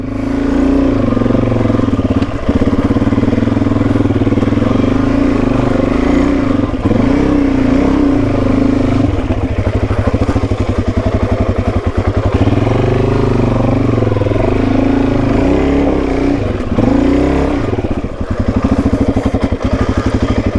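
A Suzuki DRZ400E motorcycle labours up a steep rocky track in first gear, its loud engine droning and revving close up without a break, with clattering over the rocks and wind buffeting throughout.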